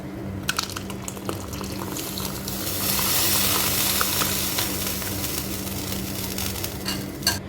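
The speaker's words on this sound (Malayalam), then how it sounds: "അപ്പോൾ നമ്മുടെ കറി നല്ലപോലെ തിളച്ച് വന്നിട്ടുണ്ട്." Prawn curry with drumsticks, coconut-cumin paste and kudampuli boils in a pan, making a steady close bubbling and sizzling hiss with no talking.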